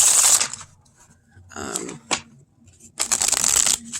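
Tarot cards being shuffled in short, close, crisp riffling bursts, with a pause between them and a brief tap, then another quick flurry of shuffling.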